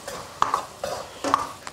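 Ginger and garlic being stir-fried in a wok, with a metal spatula scraping and clinking against the pan in three quick bursts over a faint sizzle, close and moderately loud with no voices.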